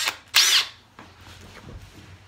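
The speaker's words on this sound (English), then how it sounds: "put the pin in your drill" Power drill spinning a headless nail pin as a makeshift bit to bore small holes for fitting decorative stair spindles: a loud high whine burst near the start, then a lower grinding hum as the bit works into the wood.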